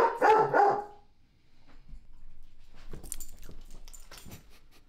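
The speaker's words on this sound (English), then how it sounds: "She's barking at me." A dog barks in a short burst of loud close barks, then quieter yips and scuffling follow after a pause, with no voices.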